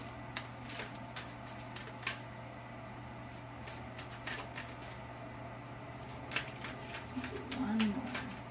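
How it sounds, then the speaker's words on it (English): Soft papery shuffling of a large tarot deck in small hands comes in uneven bursts over a steady low hum, with a person talking briefly near the end. "shuffling can be a little bit comical"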